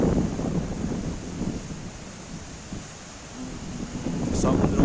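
Strong wind roars and buffets the microphone on the seashore at Paphos, Cyprus, where big waves are rolling in; a steady, loud broadband rush fills the whole clip, swelling again toward the end.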